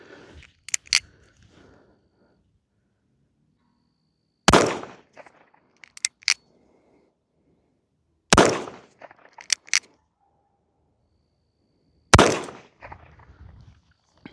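Chiappa Rhino revolver with a 6-inch barrel firing .38 rounds in single and double action: three sharp, loud shots about four seconds apart, each followed by lighter mechanical clicks of the cylinder and hammer.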